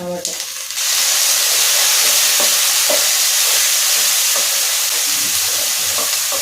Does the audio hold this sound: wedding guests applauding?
no